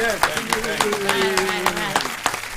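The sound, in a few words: audience applause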